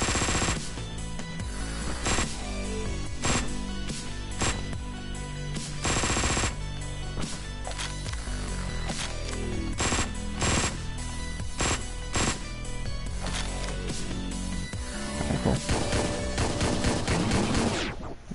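Dense, rapid gunfire from the top-down shooter Hotline Miami 2 fills the whole stretch, with sharp repeated shots and bursts layered over a loud, pounding game soundtrack and no talking.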